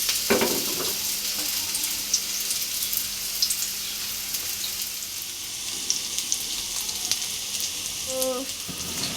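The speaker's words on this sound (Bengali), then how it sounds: "কড়াইটাতে এক সাইডে তেল এসে থাকে হুম এই যে কিন্তু ভাজা হয় সুন্দর" Food frying in oil in a kadai makes a loud, continuous close sizzle and crackle, with occasional stirring clatters and no talking.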